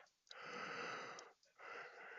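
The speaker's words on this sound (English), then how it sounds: "Sorry about the yawn." A person yawns once, a drawn-out breathy inhale and exhale close to the mic, followed by a shorter breath, quiet with no speech.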